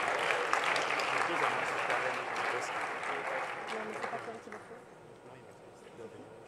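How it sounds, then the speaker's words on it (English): Sustained audience applause at a startup pitch event, dense clapping that fades somewhat toward the end, without clear talk over it. "Another round of applause for our innovators."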